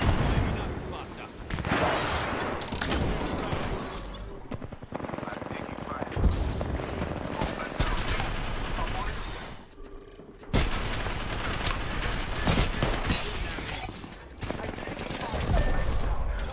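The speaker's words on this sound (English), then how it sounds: "Launching thermite. Firing thermite. Launching frag." Thermite and frag launchers firing in a video game: dense, repeated booming blasts and crackling gunfire-like bursts fill the stretch, with a brief lull near the middle before the barrage resumes.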